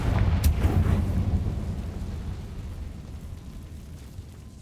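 The Confringo fire spell explodes in Hogwarts Legacy on PS5: a loud, close blast with a sharp crack that rolls into a rumbling boom and fades slowly.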